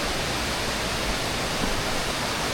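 Small cascades of water tumble along a Scottish stream, a steady broadband rush of flowing water, even and unbroken, with no voices over it.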